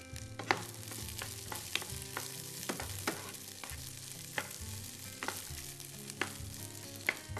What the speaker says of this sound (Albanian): Nuk dua që të më piqet, të skuqet një anë, ose të kaurdisit një anë